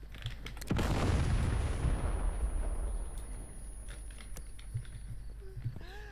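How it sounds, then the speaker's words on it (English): A breaching charge detonates in a SWAT tactical video game: a sharp, loud blast followed by a long rumbling, crackling decay and debris noise fading over several seconds, with faint voices afterward. "Deploy breaching charge. On it. Placing charge. Prepare for detonation."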